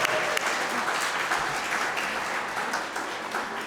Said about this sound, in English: I'd like to give a loud shout of joy and round of applause to these three amazing people.